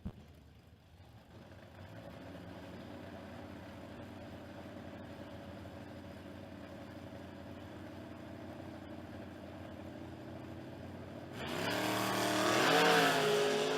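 Drag racing at a strip, with a Chevrolet Vega and a Camaro launching down the track: a steady engine drone holds for about ten seconds before a louder, brighter roar of revving engines surges at the end.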